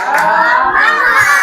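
A group of children at a free tutoring session in a pesantren chant the rhythmic 'tepuk semangat' clapping cheer together, loud, dense and continuous.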